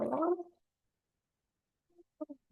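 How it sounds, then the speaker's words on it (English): A person gargles in one short burst during a vocal overtone chanting session, the bubbling sound quick and close, followed by silence and a few faint short vocal sounds. "So let's gargle."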